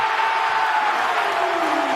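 A packed basketball arena crowd roars in a loud, steady wash of cheering and applause that holds without a break, while a faint tone slowly drops in pitch underneath.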